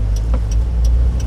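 A manual car pulling away in second gear during a driving lesson, a loud close low engine hum with a steady rumble and faint rhythmic ticks, heard briefly with no talking.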